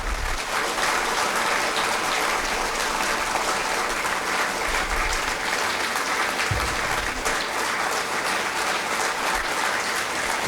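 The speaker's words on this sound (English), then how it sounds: "Close your eyes and clap for yourself." A large audience of new MBA students at a business school inauguration ceremony claps loudly and continuously for about ten seconds, a dense, even wash of applause.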